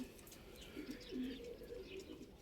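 Soft, low cooing from Shami pigeons on a rooftop, a few rolling calls close by over a quiet background hum, with faint chirps.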